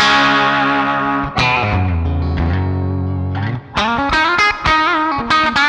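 Electric guitar with a classic humbucker pickup setting on a Pacifica 502V Custom, played through a Yamaha THR10X amp: loud distorted sustained chords followed by choppy riffed notes with brief gaps, heard alone.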